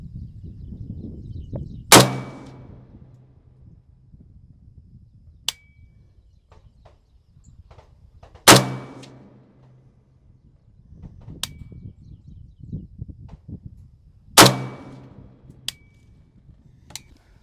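Three loud, sharp rifle shots from a Bulgarian AK-74 fired at a target ring out several seconds apart, each with a short echoing tail, amid quiet outdoor rustling and faint clicks between shots.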